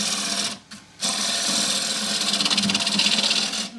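A half-inch spindle gouge cutting tough oak on a lathe while shaping a treasure box, a close, steady rasping hiss with a short break near the start, then continuing with a faint rhythmic pulse.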